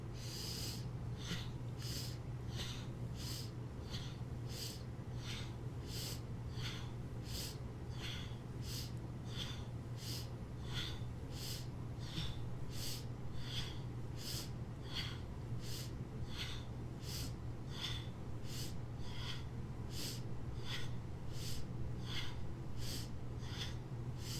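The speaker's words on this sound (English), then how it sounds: "let's start with 20 breaths" Steady rhythmic breathing exercise, about twenty deep breaths in regular bursts under a low constant hum, each inhale-exhale a soft airy rush close to the mic, no talking.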